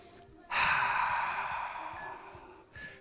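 A person exhales heavily during a HIIT workout, one long forceful breath out starting abruptly and fading over a couple of seconds, followed by a short softer breath; close and otherwise quiet.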